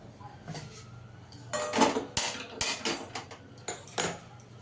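A kadai, or wok, set down on a stove, heard as a series of metallic clanks and knocks of cookware, with a couple of sharp bangs, close and moderately loud with no talking.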